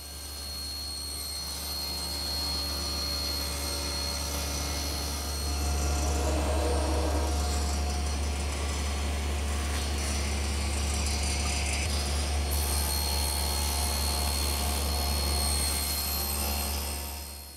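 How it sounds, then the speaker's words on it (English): A table saw or similar power saw cross-cuts a wood board to length while milling side panels for a Shaker two-drawer blanket chest, a steady loud machine drone with the blade's whine rising as it bites into the wood. "now I'll square one end and cross cut it to length"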